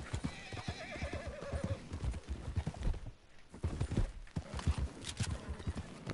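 A horse whinnies while hooves clip-clop steadily nearby in the video game Red Dead Redemption II, a crisp synthetic-sounding mix with brief pauses.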